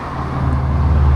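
Road traffic with cars passing along a cycling route on the Shimanami Kaido in Japan: a loud, steady, close rumble of engines and tires that swells slightly toward the end.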